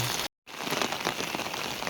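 Steady rain falls on an empty street at night near the Yunshuiyao earthen tulou buildings, a dense, close hiss of drops that cuts out briefly near the start and then carries on evenly.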